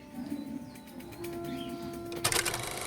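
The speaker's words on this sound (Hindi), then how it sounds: "201 जोड़ा कबूतर मतलब रोज़ सुबह शाम 201 बार गुटर गुटर की आवाज़" Pigeons on a pigeon farm in Purnia coo softly and repeatedly, with a burst of wing flapping or rustling near the end and a faint background hum.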